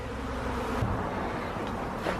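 Honeybees at a hive feeding on sugar and pollen give off a steady, close, moderately loud drone with a few brief louder passes, and no voices.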